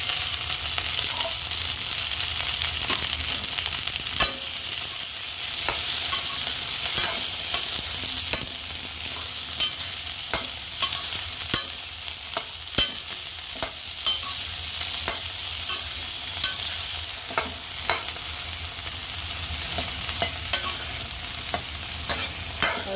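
Okra pieces frying in oil in a pan, cooked until their sliminess is gone, with a constant close sizzle and regular sharp clicks and scrapes from a spoon stirring against the pan.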